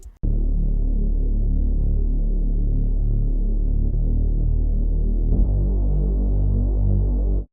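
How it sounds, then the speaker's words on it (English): A Reese bass synth with detuned unison voices and chorus drones low and heavy, throbbing and phasing continuously for several seconds. It is loud and alone, with a slight shift in texture near the end before it cuts off. "Then we're going to add a chorus to make our detune sound even more intense"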